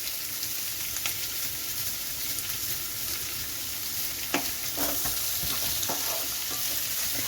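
Onions with green chillies and salt sautéing in a pan for a mushroom curry, a steady close sizzle broken by occasional scraping clicks of stirring, with no voices.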